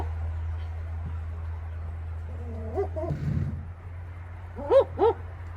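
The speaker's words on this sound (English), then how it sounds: "That's the barking owl." A barking owl calls at a wildlife sanctuary in Victoria, Australia: a short, soft run of notes, then two loud, clear woofing hoots in quick succession over a constant low background hum.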